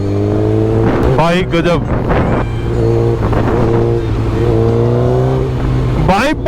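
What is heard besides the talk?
loud superbike engine revving while riding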